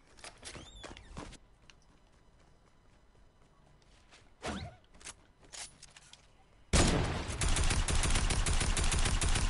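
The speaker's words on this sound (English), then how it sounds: "Damn it, I forgot there were snipers in this." Sniper rifle shots crack in the Fortnite video game: a few sharp, separate bangs come early, then a loud, dense wash of noise takes over near the end.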